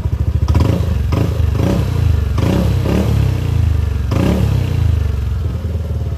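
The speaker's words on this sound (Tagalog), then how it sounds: "ire-rev ko ng bahagya para marinig nyo." A motorcycle fitted with an 8SR exhaust pipe and muffler, freshly repaired with replaced parts, revs lightly close by in several short throttle blips over a steady loud idle, with some mechanical clatter.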